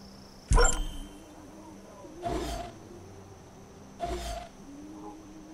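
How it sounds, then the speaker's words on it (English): Animal growls in Far Cry 5 arrive as three separate rough, low bursts, the first sharp and loud and the next two softer and longer, spread out over a quiet background. "Cause he's growling"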